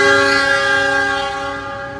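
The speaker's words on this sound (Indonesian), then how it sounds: "Ini Gajayana berangkat." As the Gajayana passenger train pulls out of the station, its horn sounds one loud, sustained, multi-tone blast that slowly fades against a low rumble.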